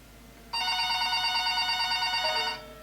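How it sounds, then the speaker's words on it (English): A telephone sitting on a shop counter rings with a bright electronic trill. The single sustained burst lasts about two seconds, close and clear, with no voices over it. "About an hour later, the phone on the counter rang."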